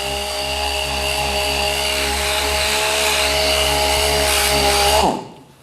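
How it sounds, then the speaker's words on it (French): Repaired plastic being sanded with a disc on a power tool: a loud, steady high-pitched whine with a constant grinding hiss that runs for about five seconds, then winds down and stops abruptly. "ponçage avec un disque"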